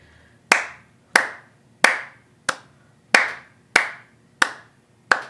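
Eight sharp hand claps in a steady, even beat, loud and close, each ringing briefly before the next.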